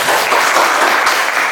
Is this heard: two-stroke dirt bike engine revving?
no